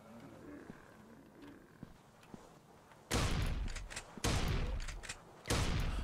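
Shotgun blasts aimed at spiders in the Attack of Mutants video game: three loud, booming shots spaced about a second apart, each with a rough decaying tail, breaking over a quiet ambient background.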